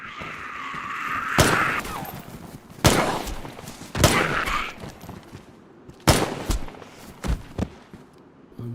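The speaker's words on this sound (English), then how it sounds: "So they changed the pistol sounds as well." Pistol gunshots in the survival game DayZ: about six sharp, loud reports fired at irregular intervals, some spaced a second or more apart and a couple in quicker succession, with no talking.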